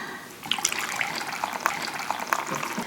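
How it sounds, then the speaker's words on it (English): Hot water pours into a keto chocolate orange pudding mix with gelatin, starting after a brief quiet beat as a close, continuous splashing trickle with small bright spatters throughout. "And I'm going to add in a little bit of hot water."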